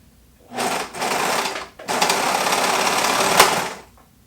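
A sewing machine runs in two loud, close bursts of rapid stitching: a short run, a brief pause, then a longer steady run that stops abruptly.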